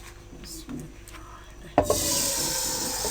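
Chicken legs drop into hot masala in a kadai and start frying, a sudden loud burst followed by a steady, close sizzle that continues to the end after some quieter stirring and clatter.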